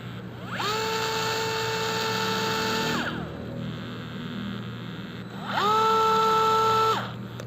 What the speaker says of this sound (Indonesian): Pada saat kita menekan tombol ini, dia belum berputar, tapi ada getaran di dalam DeWalt gyroscopic ini